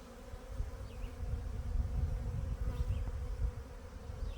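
Honeybees swarm around an opened hive in a dense, steady buzz, many insects droning close by with individual bees flitting past now and then, no voices over the humming.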